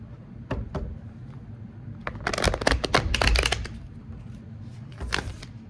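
Cards riffle and snap in quick rapid bursts, a dense flurry in the middle and scattered flicks before and after, close and crisp.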